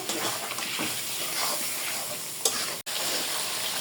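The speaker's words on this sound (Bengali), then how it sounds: "মাছ দিয়ে দেব মাছগুলো একটু কষায় তুলে নেব" Rita river fish sautéing in spice paste in a pan, a dense, even sizzle with a faint hiss, close and steady, with a short scrape and a momentary dropout near the end; nobody talks.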